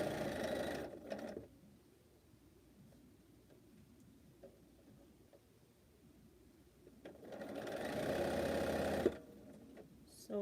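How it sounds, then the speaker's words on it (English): A sewing machine stitches quilt pieces into pairs in two short bursts of rapid whirring, about a second at the start and two seconds near the end, with a quiet gap between. "So I'm just sewing these into pairs."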